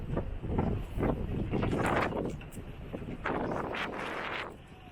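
Strong wind buffets the microphone aboard a cruise ship docked at Puerta Maya, Cozumel, Mexico, a loud continuous rumble swelling in gusts for several seconds before easing at the end.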